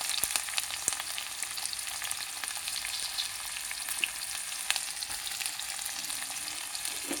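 Chopped onions and green chillies frying in oil in a pan, an even, continuous crackling sizzle heard up close, with occasional light pops and faint stirring, no voices present.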